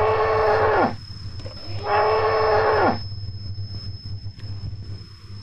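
A toy water buffalo plays a recorded moo: two long, loud lowing calls about a second apart, each ending in a downward slide, over a steady low hum and a faint high electronic whine, with no talking.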